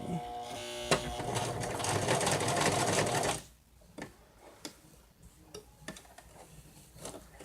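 Sewing machine stitching fabric for a stuffed bear, running loud and steady for about three seconds with a rapid mechanical whir, then stopping, followed by scattered soft clicks and handling noises.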